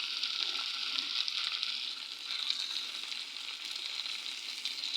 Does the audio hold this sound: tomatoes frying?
yes